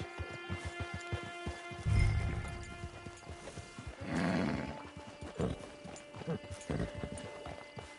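Hooves clip-clop in a steady rhythm over ground, with a horse snorting and a deeper whinny partway through, fairly close.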